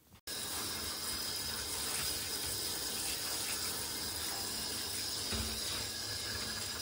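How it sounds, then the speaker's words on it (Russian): Warm water from a shower head sprays steadily onto a white miniature schnauzer in a bathtub, a continuous close hissing splash that starts abruptly and runs on without pause. "Первым делом смоем грязьку из-под душика теплой водичкой."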